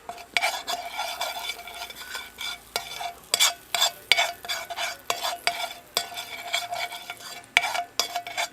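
Turmeric powder dropped into hot oil in a pan while cooking a bitter gourd curry: a steady close sizzle and fry, broken by repeated sharp scrapes and clinks of a stirring spoon against the pan.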